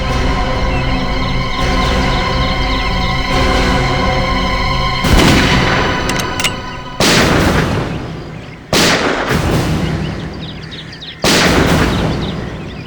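Several loud, sharp gunshots ring out in a tense Hindi TV crime drama scene, sudden broadband bursts spaced a second or two apart over a steady music bed, with no talking.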